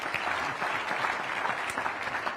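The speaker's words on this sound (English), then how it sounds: "You can applaud at that, ladies and gentlemen." An audience applauds at a Kansas governor debate in Overland Park, a steady, dense clatter of many hands clapping that holds evenly at full volume throughout, without voices on top.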